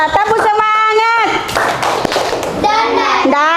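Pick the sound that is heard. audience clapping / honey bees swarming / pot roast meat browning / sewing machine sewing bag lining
audience clapping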